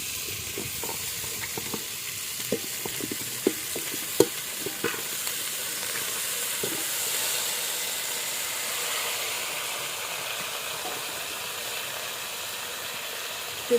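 Jackfruit bulbs sautéing in a pan for a traditional Malvani-style vegetable, with a continuous sizzle and hiss broken by scattered clicks and knocks from stirring in the first half, then a smoother steady frying.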